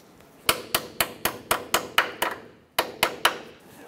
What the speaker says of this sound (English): I'm just going to use a pick and I'm just going to tap it